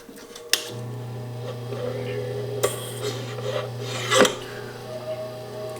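GRS Power Hone motor running steadily as a hand graver is sharpened on its spinning plate, a constant low hum with light rasping scrapes and a few sharp clicks, close and moderately loud, with no talking.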